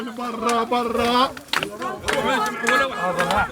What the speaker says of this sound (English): The crowd starts singing popular Palestinian songs.